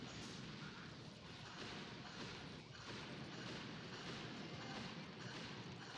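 Boom cannons fire repeatedly in a combat video game, a dense, continuous barrage of loud booming blasts with no pauses across the whole stretch.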